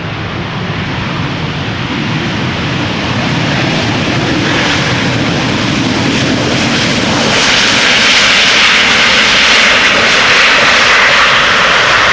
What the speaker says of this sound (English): another heavy KLM flight 515 is making its way over